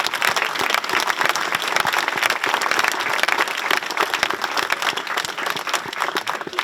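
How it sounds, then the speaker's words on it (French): A crowd applauding steadily at a French municipal election victory event, dense clapping that stays loud and even throughout with no voices over it. "Vous pouvez les applaudir."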